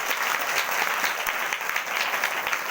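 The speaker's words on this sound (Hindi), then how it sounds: "जोरदार ताली से धन्यवाद।" Audience clapping at a church ministry gathering, a steady dense patter of many hands, moderately near, sustained for a few seconds with no talk over it.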